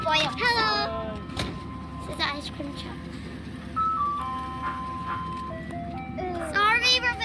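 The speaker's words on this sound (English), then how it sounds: "Is the ice cream truck." An ice cream truck passing close by, its tinkling electronic jingle melody playing throughout, with children and adults talking over it.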